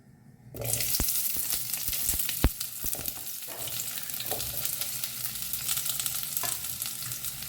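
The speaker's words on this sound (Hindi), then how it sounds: "तो पहले ना मैं प्याज और लहसुन को फ्राई कर लेती हूँ।" Onion and garlic fry in a little oil in a kadai, a steady close sizzle with scattered clicks and stirring scrapes, rising abruptly after a short quiet start and continuing without talk.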